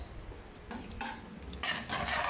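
Chicken pieces and butter being tossed in a pan: a faint sizzle broken by a few louder bursts of scraping and rustling as the food is turned, with no talking.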